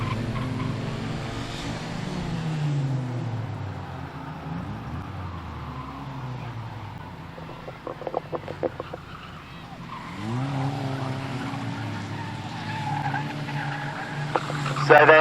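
Race cars at Standlake circuit, with engines revving and tyres skidding as one car goes off into the tyre wall, heard under continuous commentary with a crowd of motor noise in the background.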